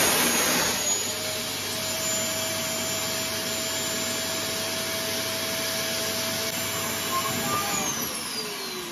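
Dyson vacuum cleaner running steadily at close range, a loud continuous whooshing whine that holds for the whole stretch and eases off slightly near the end.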